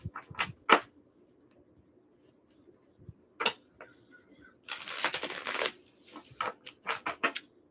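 Small tarot cards being shuffled in the hands: soft scattered taps and flicks, then a dense papery riffle lasting about a second, followed by a few more quick separate taps, close and fairly quiet.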